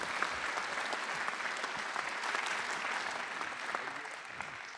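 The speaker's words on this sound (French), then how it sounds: "Bon, allez, on l'applaudit une dernière fois" Steady audience applause at a New Year civic ceremony, a dense, even wash of many hands clapping throughout, moderately distant and sustained without speech.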